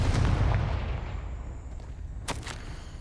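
Confringo blasting spell in Hogwarts Legacy going off as a deep, booming explosion that rumbles and fades, followed by a sharp crack of debris late on.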